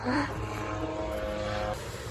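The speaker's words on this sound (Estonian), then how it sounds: "Mingi helikopter ka." A helicopter passes near the Fuerteventura or Lanzarote coast, a steady rumbling engine and rotor drone that fills the whole short stretch at moderate loudness, mixed with wind and surf.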